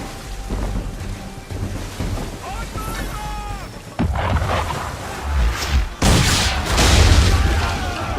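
Cannon fire booms against a ship at sea in Assassin's Creed 3, with heavy rumbling blasts arriving around the midpoint and again near the end over continuous stormy, rain-like background noise, while a voice briefly talks early on.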